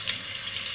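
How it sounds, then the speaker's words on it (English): Hot water runs steadily from a tap to rinse razor blades, a close, constant rushing splash with no breaks. "I always rinse the blades under hot water to help open up the pores even more."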